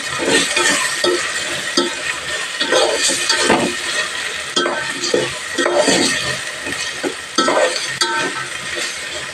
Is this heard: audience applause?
no